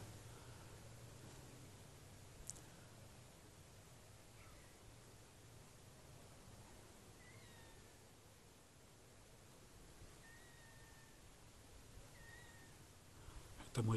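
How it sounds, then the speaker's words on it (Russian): Faint, distant cats meow a few times in short wavering calls over a hushed outdoor background during a spring night in a village, with soft rustling and low background noise throughout. "Это мои коты тут бегают. Весна, мяукают"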